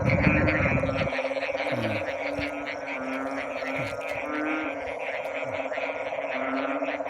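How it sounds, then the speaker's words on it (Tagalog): A dense chorus of frogs croaks and trills at night in farm fields, loud and continuous, with pulsing calls layered over one another throughout. "ganyan ka-ingay yung pangapalaka"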